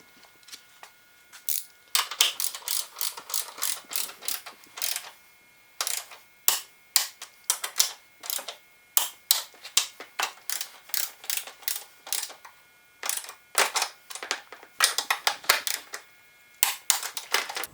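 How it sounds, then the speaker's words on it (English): A ratcheting torque wrench clicks in rapid bursts while tightening the top strut assembly bolts on a 2010 Mazda3 during front shock replacement, sharp and close with short pauses between runs. "next we're going to torque everything down that we've installed, starting with the bolts at the top of the strut assembly"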